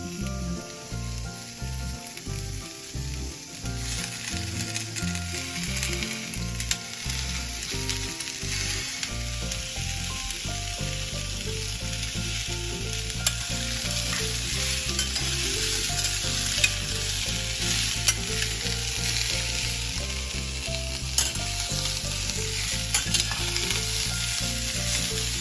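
Corn kernels fry in hot oil in a pan for a chicken stew, giving a steady close sizzle and crackle with stirring throughout while background music plays.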